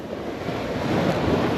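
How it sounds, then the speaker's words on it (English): Ocean surf rolling onto a Florida beach as the tide comes in during an early-morning fishing outing, a steady broadband wash that swells slightly louder toward the end, with some wind rumble on the microphone. "tide's coming in"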